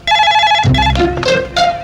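A telephone rings loudly and close, with repeated electronic trills in quick bursts.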